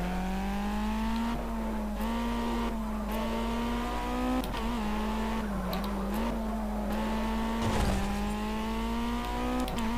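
A race car engine in the Project CARS video game on Xbox One drones loudly and steadily through ten seconds, its pitch rising and dipping between gear changes, with brief tyre squeals as it corners.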